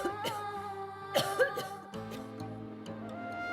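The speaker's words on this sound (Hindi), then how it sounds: "बुढ़िया को खांसने दो।" An old woman coughs in several rough, hacking bursts, clustered close together, over a steady musical backdrop.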